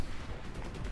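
A minigun blazes in rapid bursts during a Medal of Honor helicopter fight, loud and dense, with the shots blurring into one harsh, continuous roar over a heavy low rumble.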